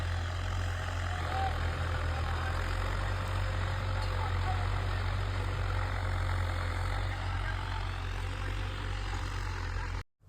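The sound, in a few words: tractor engine idling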